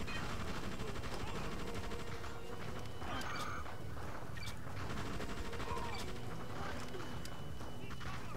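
Sustained gunfire from the video game Just Cause 2, a dense continuous wash of shots and explosions with sharp bursts layered over a loud, busy game soundscape.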